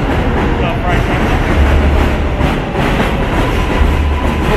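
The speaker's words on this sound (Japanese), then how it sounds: "ここね、上が電車が走ってるからね、" A train passes overhead above a restaurant, rumbling close by with a loud, continuous roar and rattle of wheels on track, filling the whole stretch.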